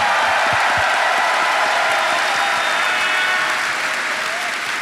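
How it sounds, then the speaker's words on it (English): An audience at a gaming convention applauds loudly and steadily, a dense wash of clapping with a few sharp claps at the start, gradually thinning slightly toward the end. "please, one more round of applause for the amazing sound team"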